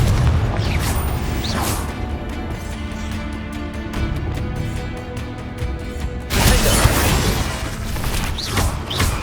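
Confringo, an explosive spell in Hogwarts Legacy, going off amid loud ongoing combat, with booming blasts, whooshes and a heavy burst near the end.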